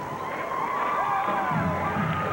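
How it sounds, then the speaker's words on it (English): Outdoor crowd at a sternwheel regatta parade cheering and applauding, a dense continuous wash of voices, whoops and clapping held at steady loudness throughout. "Great warm round of applause."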